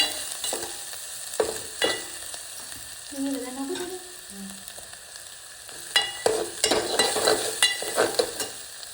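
Garlic paste spits and sizzles in hot oil for hotel-style Manchow soup, with loud crackling bursts at the start and end and a quieter stretch in between that carries faint high chirping tones.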